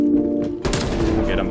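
Rapid SMG fire in Call of Duty: Black Ops Cold War breaks out after a quiet stretch with a steady hum, then a dense burst of shots runs to the end.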